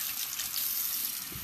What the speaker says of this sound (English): What I'm going to do is I'm going to start first with hot water.